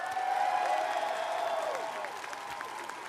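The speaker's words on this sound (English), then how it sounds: "I think you all deserve an unbelievable round of applause for that" Awards show audience at The Game Awards 2014 clapping in a sustained, full round of applause that slowly tapers, with a tonal musical sting ringing over it.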